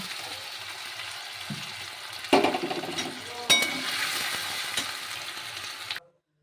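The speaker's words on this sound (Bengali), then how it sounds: "এবার আমি সুন্দর আলুগুলোকে লাল লাল করে ভেজে নেব।" Potato pieces fry in a pan until reddened, a soft steady sizzle broken by a few sharp clinks and louder bursts of stirring, then cutting off abruptly near the end.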